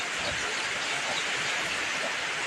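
Heavy rain pouring steadily in a dense, unbroken hiss that fills the space, loud and close with no pauses or voices.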